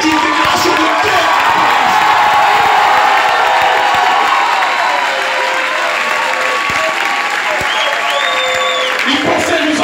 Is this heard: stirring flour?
no